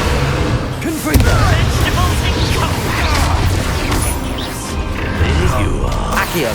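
Fiery blasting-spell explosions in Hogwarts Legacy combat, a dense, loud rumble of booms and crackling impacts that swells and continues without pause, with a heavy hit near the start.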